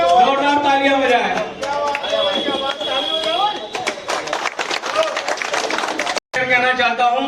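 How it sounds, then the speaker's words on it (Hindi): Audience applause welcoming a new member into Kisan Union Janshakti at a Moradabad gathering: a burst of dense clapping in the middle, with a voice and music before and after it. "राजा भाई का स्वागत करें, जोरदार तालियां बजाएं"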